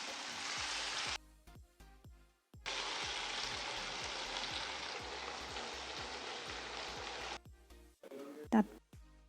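Chilli paneer ingredients sizzle and fry in a pan while being stirred, a steady hiss broken by short pauses and faint scraping taps, ending with a louder clatter.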